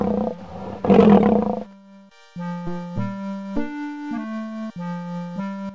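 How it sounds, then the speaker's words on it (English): A lion roar from the Kids Zoo: A Baby Animal Adventure MS-DOS computer game comes as one short, gritty burst, then a simple synthesized tune plays. "A lion goes."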